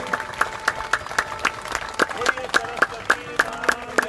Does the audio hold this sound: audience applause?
yes